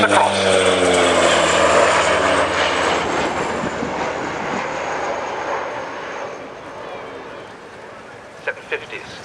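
A Handley Page Jetstream T2 passes at the RNAS Culdrose airshow in 2010, a loud turboprop roar with a falling whine that fades over several seconds, then a few sharp knocks.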